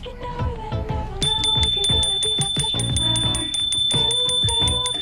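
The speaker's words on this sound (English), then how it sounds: "You guys need bike bells. You got one bike bell" A bicycle bell rings out clearly on a coastal ride, its bright metallic ting repeated in a quick regular series over a busy outdoor mix of voices and movement.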